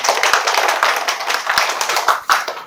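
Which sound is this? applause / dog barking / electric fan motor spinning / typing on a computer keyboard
applause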